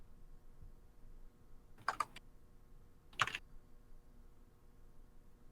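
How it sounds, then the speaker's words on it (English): Two short bursts of computer keyboard typing, faint and close, separated by about a second of quiet room hiss. "Oh, something's happening. Typing."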